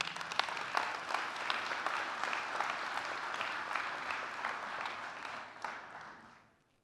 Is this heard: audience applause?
yes